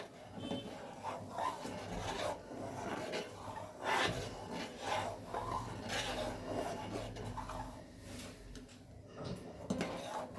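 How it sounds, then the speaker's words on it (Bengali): Milk for chanar payesh, sweetened with condensed milk, being stirred in a pan, giving a steady soft scraping and rubbing that runs on through the whole stretch at moderate, close level with no talk. "দুধটাকে ভালো করে নাড়তে হবে।"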